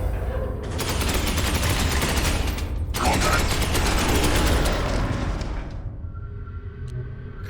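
Sustained, loud automatic gunfire from Iron Hands space marines in the Warhammer 40k game Space Hulk Ascension, a continuous roaring barrage with one brief break before it fades into quieter mechanical sounds at the end.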